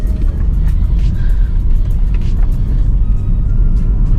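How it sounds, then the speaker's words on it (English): A Lexus IS300 with a swapped 2JZ engine accelerating hard, a loud continuous engine and road rumble heard from inside the car, steady and droning without clearly separated shift breaks. "just rolling through the gears, just upshift, third gear, upshift again, fourth gear, upshift again, fifth gear"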